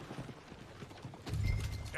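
Horses in Red Dead Redemption 2 clop their hooves in an uneven rhythm, rising into a louder, closer rush with a neigh near the end, while people talk over it.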